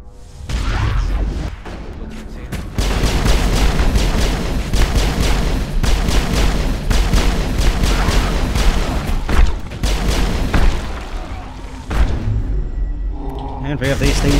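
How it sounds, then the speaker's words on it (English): Repeated booms and thuds of explosions going off all around in Mass Effect combat during a tower-defense-style fight, dense and loud throughout, mixed with gunfire and a talking voice. "And we have these things exploding everywhere."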